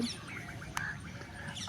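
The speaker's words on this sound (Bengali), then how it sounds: "মাঝে মাঝে পাখির ডাকও শোনা যাচ্ছে।" A few faint bird chirps sound from a distance in Vrindavan over a steady background hiss, one brief call standing out.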